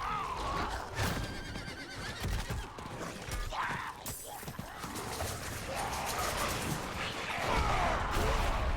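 A horse whinnies a few times amid busy Diablo 4 game sound effects, clopping hooves and crashes, with some talking underneath.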